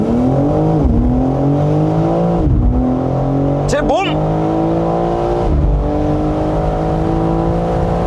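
A BMW M4 xDrive revs hard on launch control, then surges forward, its engine note climbing through several quick gear shifts, loud and close, with someone speaking briefly over it.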